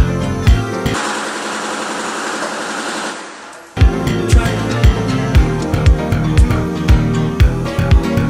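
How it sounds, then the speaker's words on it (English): Machine guns firing at an indoor machine gun range: loud, hard reports in a fast, even rhythm, preceded by a stretch of harsh continuous roar that cuts off before the shots resume. "Check out a indoor machine gun"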